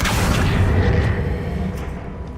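An Accio spell cast in the Hogwarts Legacy video game, heard as a loud, deep booming whoosh that swells early and then fades away over a couple of seconds.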